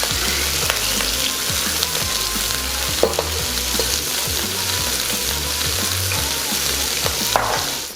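Two eggs crackle in hot oil in a wok beside browned beef and broccoli, giving a loud, dense sizzle with scattered clicks and scrapes of stirring throughout.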